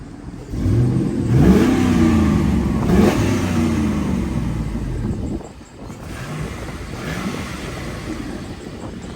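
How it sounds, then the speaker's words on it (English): A warm car engine with its stock exhaust and stock muffler revs up hard and holds, then eases off and idles lower, loud and close with some wind noise on the microphone. "Give her a couple revs, we'll see how the exhaust sounds."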